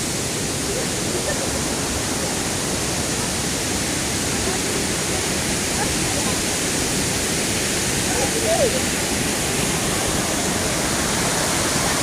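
A mountain stream flows through a valley just below Oylat waterfall, a steady, dense rush of water that holds even and unbroken from start to finish.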